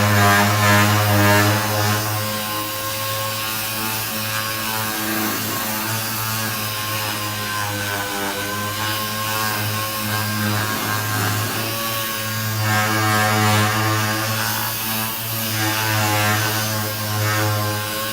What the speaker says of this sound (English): I'm going to sand with 500 grit on DA.